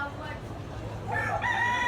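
A rooster at a game farm crows in the second half, a clear rising call over steady background noise that starts about midway and rings on to the end.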